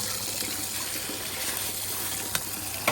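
Water runs steadily from a tap while soaked lentils are rinsed, a soft continuous splashing hiss with a couple of small knocks near the end.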